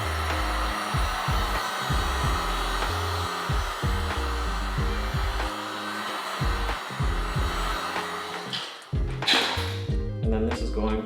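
A heat gun blows a steady stream of hot air onto an exterior part of an 11th-generation Honda Civic, a loud continuous whoosh that runs through the whole stretch with a brief dip and burst near the end, while a person talks over it.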